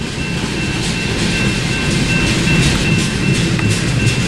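A freight train with an NS unit and a BNSF GEVO locomotive rolls past on the Tehachapi pass near Monolith, a loud, steady rumble with rail clatter filling the whole stretch, no voices.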